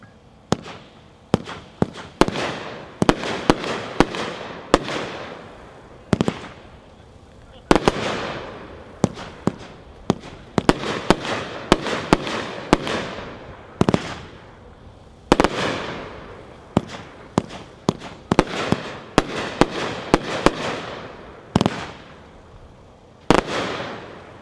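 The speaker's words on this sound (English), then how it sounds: "Pack 4, or number 4, Ice Cold Beer." An Ice Cold Beer 24-shot consumer firework cake fires a rapid, uneven string of loud launch thumps and crackling bursts for over twenty seconds, with short gaps between volleys.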